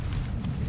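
Grenade blast in the Modern Warfare 2 campaign on PC, heard as a sustained low rumbling roar with no distinct onset, steady and loud for under a second.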